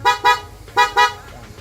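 A newly installed car horn honks four times in two quick pairs, loud and close, with short gaps between the blasts.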